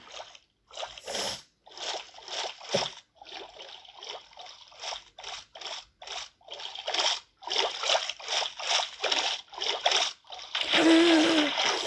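Water in the Minecraft video game splashes in a rapid series of short, close bursts, with a louder sustained rush at the end.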